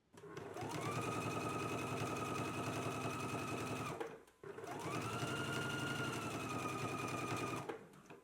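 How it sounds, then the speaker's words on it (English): A sewing machine runs close to a seam while understitching, two steady whirring runs of rapid stitching separated by a brief pause. "let's go ahead and stitch close to the seam"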